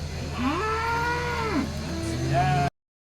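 A cow moos in long, drawn-out, rising and falling calls at a cattle market in Seenapuram, Tamil Nadu, loud and close over a busy murmur of background crowd noise, with a second shorter moo at the end.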